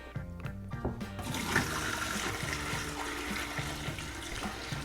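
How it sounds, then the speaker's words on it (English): Dr Pepper poured out of a container used to soak a pork shank for smoking makes a steady, close liquid gush that runs unbroken for several seconds, with no talking. "I'm just gonna go ahead and pour this out."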